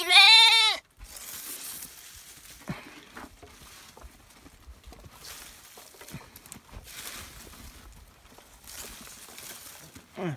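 A crossbred or Dorper lamb in a feedlot lets out one loud, close bleat at the start, followed by quieter shuffling, rustling and patter as someone speaks in the background.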